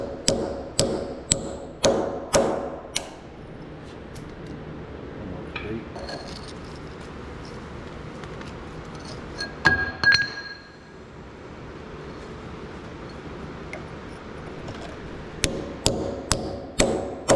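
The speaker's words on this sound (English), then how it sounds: "all we got to do is tap it out with a handheld hammer" Sharp metallic handheld hammer taps ring out in a quick series, knocking out a pin on a skid steer, pause for a stretch of quiet shop noise, then resume with several more strikes.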